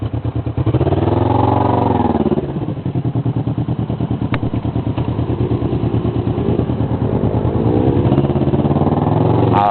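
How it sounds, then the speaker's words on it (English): Motorcycle riding on a road in Taiwan, its engine droning loud and close throughout with a rough, throbbing note that rises and dips as the throttle changes, wind rushing under it. "doing what I think is going to be a short motorcycle ride with some of my closest friends in Taiwan"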